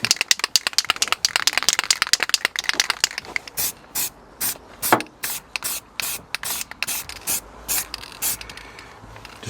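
An aerosol can sprays zinc primer onto a rusty van panel in quick hissing bursts, rapid at first and then in spaced, even pulses, loud and close.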